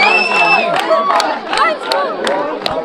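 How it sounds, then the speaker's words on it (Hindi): A large crowd at a live stage performance roars and shouts for an encore, loud overlapping voices rising in repeated surges of cheering and calls close by. "यहाँ पर कह रहा है वंस मोर की डिमांड हो रही है"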